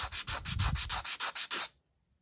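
Daiso cube-shaped sanding block rubbed over a roughly cut surface to smooth it, about eight close, rhythmic rasping strokes in quick succession before stopping abruptly into silence.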